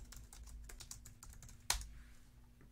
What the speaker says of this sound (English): So I can go ahead and type a message and say,